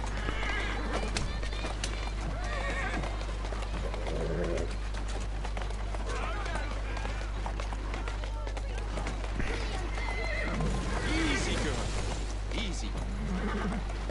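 Horse hooves clip-clop steadily as a horse-drawn carriage rolls through the streets of Assassin's Creed Syndicate, with bird chirps and ambient city noise around it and someone talking over it.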